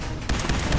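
Gunfire in the video game Fallout 4 erupts suddenly as a loud, dense burst of shots that rattle on steadily, near and without speech.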